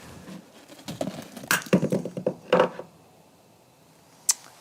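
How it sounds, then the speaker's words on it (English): A webcam drops and strikes the floor outdoors on a cold night, giving a cluster of close knocks and clatters over about two seconds, followed by quiet and one sharp tap near the end. "that bang sound you just heard was the sound of my webcam hitting the floor"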